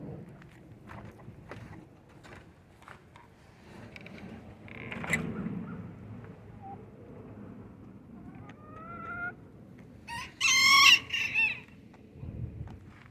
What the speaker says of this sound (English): Saw the chickens.